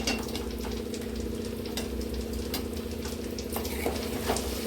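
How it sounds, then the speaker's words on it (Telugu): Bitter gourd (kakarakaya) frying in a pan, a steady close sizzle with soft scraping and stirring clicks scattered through, no voices over it. "ఒకసారి చూద్దామా మనము కాకరకాయ ఫ్రై అయిందో లేదో"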